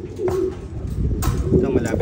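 Pigeons coo in low, throaty repeated calls near freshly hatched eggs, close to the listener, with a voice talking over them and some rustling.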